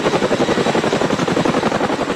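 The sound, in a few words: Boeing CH-47 Chinook heavy lift helicopter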